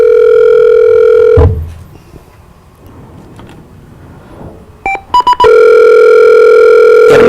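A telephone dial tone sounds loud and steady, cuts off, then a quiet stretch with faint clicks is followed by a few short dialing beeps before the dial tone returns, steady and close.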